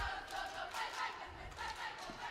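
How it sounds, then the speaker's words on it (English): Cheerleaders and an enthusiastic student section roar continuously at a high school basketball game, a dense, loud crowd of chanting and yelling that fills the gym without letup. "working for the enthusiastic crowd in the student section here at the high school"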